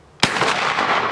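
One sharp, loud gunshot aimed at a target outdoors, a sudden crack followed by a booming echo that rolls on and slowly fades, with no talking.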